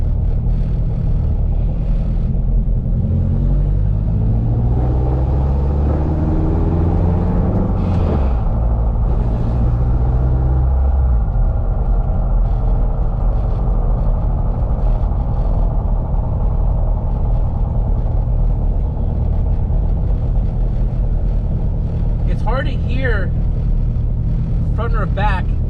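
A K20 turbo EF sedan with a nagging drivetrain fault drones at driving speed, a loud, steady low rumble whose pitch rises and shifts over time, with a brief voice near the end.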